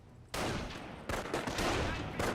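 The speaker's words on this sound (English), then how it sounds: "Small arms fire." Small arms gunfire crackles in the game Company of Heroes as dense bursts of rifle and machine-gun shots, coming in several loud volleys with almost no pause between them.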